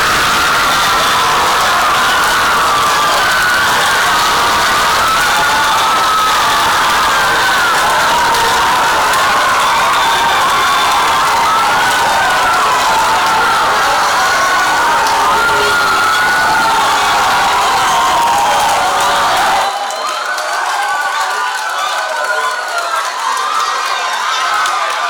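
Sustained crowd noise from a theatre audience at a inter-school drama competition final, cheering, whooping and applauding loudly and continuously, then the low rumble drops away near the end while higher-pitched cheering carries on.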